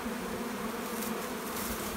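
Honey bees swarm a syrup feeder fitted with wooden floats and straw, making a dense, steady, close buzz that holds evenly throughout with no breaks.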